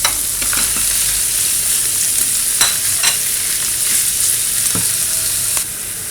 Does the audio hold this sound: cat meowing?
no